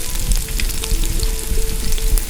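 Tomato stew for shakshuka simmers in a pan inside a wood-fired oven, giving a loud, close, continuous sizzle and bubbling crackle with a low rumble beneath.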